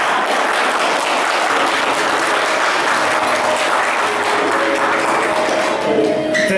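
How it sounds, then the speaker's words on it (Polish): A crowd applauds in a volunteer fire station hall after a cooking contest, a dense, loud wash of many hands clapping steadily, with faint voices mixed in near the end. "należą się im gorące brawa"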